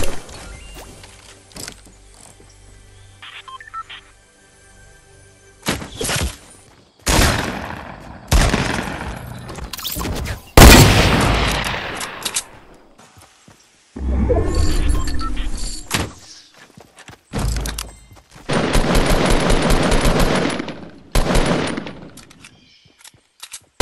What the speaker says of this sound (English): highlights after highlights of me just dropping people with the sniper